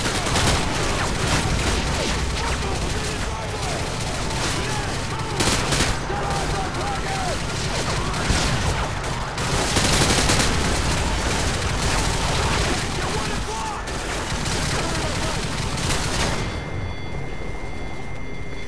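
Sustained heavy gunfire and booming explosions from an attack on a vehicle in Modern Warfare 2, loud and continuous throughout with bursts of fire and blasts, and radio-style voices mixed underneath.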